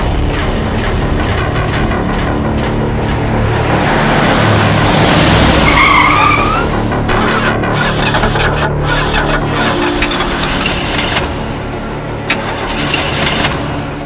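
Car skidding with tires squealing and engine revving, loud and close, building to a long screech that cuts off sharply before engine sputters and scattered knocks follow.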